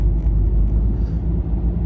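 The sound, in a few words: car interior noise with air conditioning running during a drive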